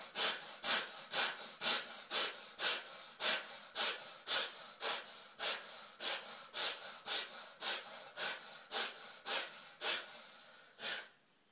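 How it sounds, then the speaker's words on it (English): Forceful breaths in and out through the nostrils over a sink while cleaning the nose with a neti pot, about twenty sharp rhythmic puffs in steady succession, close and loud with no talking. "I'm going to breathe in and out of the nostrils 10 times"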